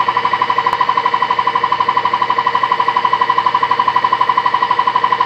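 An Olimpic K203 edgebanding machine sounds its alarm for a position fault: a loud, steady electronic beeping that pulses rapidly and evenly without pause, heard on its own.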